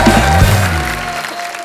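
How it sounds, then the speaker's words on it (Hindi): A studio audience claps for a guest on The Kapil Sharma Show, a TV comedy show, in a short loud burst of applause that fades quickly. "परी के लिए जोरदार तालियां।"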